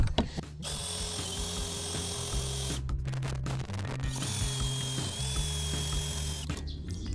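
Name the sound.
cordless drill drilling out screws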